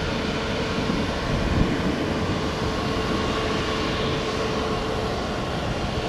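Southwest airliner jet engines spooling up for takeoff on runway 1 right at Tampa, a steady, loud broadband roar holding evenly throughout with no voices.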